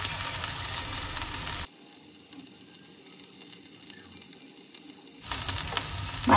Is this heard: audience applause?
no